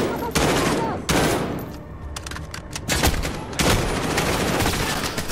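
Bursts of heavy automatic gunfire in Call of Duty Modern Warfare come loud and close, several dense volleys with short gaps between them and a few single shots in the lulls.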